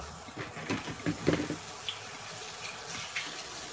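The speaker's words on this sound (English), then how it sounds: "I'm gonna take this juice and drain it off of these croquettes" Juice from canned salmon is drained off into a sink with a soft, irregular splashing and trickling that peaks briefly, then thins to faint drips.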